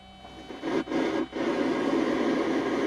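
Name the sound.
static from the radio of a 1982 DeLorean DMC-12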